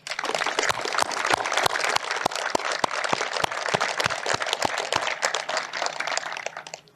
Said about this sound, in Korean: 국민들과 함께 우리 경찰의 활약에 뜨거운 박수를 보냅니다.